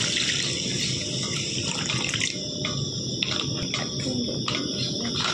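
Water poured steadily into a pot of sugar to make syrup in a home kitchen, a continuous loud splashing rush with no breaks and no talking.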